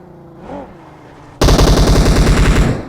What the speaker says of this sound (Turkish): Önümüzde sıkıyorlar kanka dikkat et